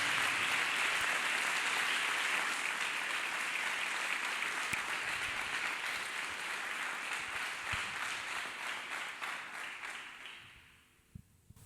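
A church congregation claps hands in praise during a service, a loud sustained wash of many hands that slowly thins and fades out toward the end.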